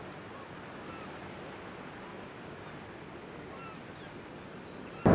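Waves breaking against a rocky winter coast form a soft, continuous wash of surf with a little wind. A sudden loud bump comes at the very end.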